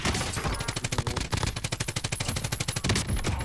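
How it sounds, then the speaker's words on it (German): Rapid automatic gunfire in the video game Call of Duty Warzone, a loud, close, sustained burst of evenly spaced shots lasting several seconds with barely any gaps. "Oh, ich werde von oben angeschossen."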